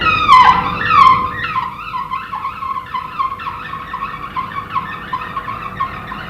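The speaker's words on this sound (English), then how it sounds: "In another workshop, surfaces are refined using various stones and polishing wheels." Polishing wheel refining a folded steel sword surface in a workshop, a loud high squealing grind that shifts pitch as the blade is pressed and moved.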